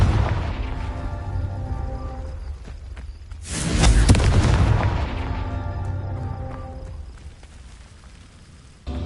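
Confringo spell explosion in Hogwarts Legacy, a sudden loud booming blast that rumbles and fades slowly over several seconds under a steady, layered game backdrop.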